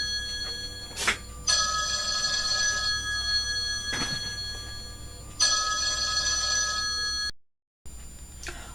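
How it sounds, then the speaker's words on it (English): An indoor telephone rings in two long bursts of bright, trilling bell tones separated by a pause, and a faint click follows. "My phone rang, so I jumped off to do that."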